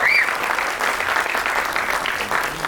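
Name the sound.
audience applause for the film team at trailer launch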